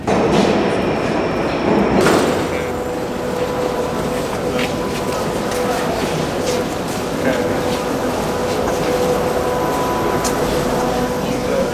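A subway train rumbles steadily throughout, with rhythmic clatter and a faint high squeal, loud and close, with some voices faintly beneath the noise.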